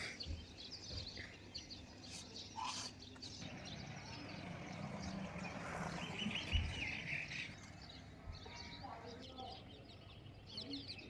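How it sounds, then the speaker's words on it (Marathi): Small birds chirp and twitter at sunrise on a rooftop, scattered bright calls coming through faintly over a soft background hum, with a voice speaking throughout. "सूर्यदेवांच्या दर्शनासाठी जसा पक्ष्यांचा किलबिलाट चालू आहे"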